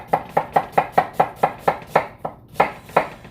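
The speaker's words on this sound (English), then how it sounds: "We've all been over cutting onions on here a dozen times" Knife chopping onions on a cutting board, a quick steady run of about a dozen sharp close knocks, evenly spaced with a brief pause before the last few strikes.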